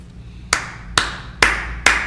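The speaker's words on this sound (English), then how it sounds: "This clap is where I'm giving you a bundle of claps" Four slow, sharp hand claps spaced about half a second apart, each a bright broadband crack with a short decay over a low steady hum, close and moderately loud.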